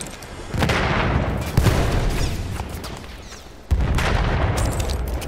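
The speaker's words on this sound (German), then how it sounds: "Ich werfe Granate!" A grenade blast and battlefield gunfire in Battlefield 1 Conquest, with heavy booming explosions and rumbling shots, loud and dense, a sharp burst near the start and another big thump toward the end.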